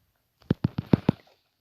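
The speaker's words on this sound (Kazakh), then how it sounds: "қайтадан жарылып кетті" A quick burst of five evenly spaced, punchy low thumps in a Minecraft game, like a chain of explosions, close and loud against near silence.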